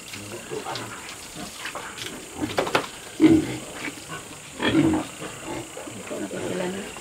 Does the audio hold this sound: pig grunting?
yes